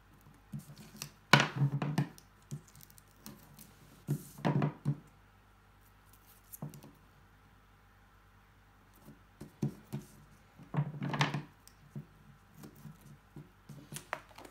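Scissors snip paper while mitring a corner on an 8x8 mini album cover, giving several short, close crunchy cuts in bursts with pauses between them and no voice.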